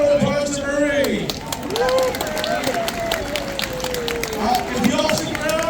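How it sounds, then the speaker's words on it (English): A crowd claps at a Chinese New Year event in Victoria, BC, with brisk, sustained applause mixed with loud, close cheering and chatter, and voices carrying over the clapping throughout. "Big round of applause to Murray"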